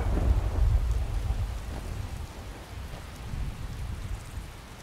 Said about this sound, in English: I'm really hoping that it eventually stops raining